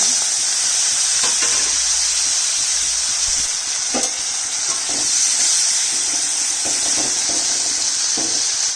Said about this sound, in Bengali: মাছটা ভেজে নেব, তেল দিয়ে দিয়েছি।